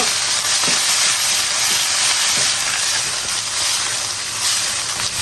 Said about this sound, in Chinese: 锅中稍微加油，油热，葱姜八角爆香，下入烫好的上元青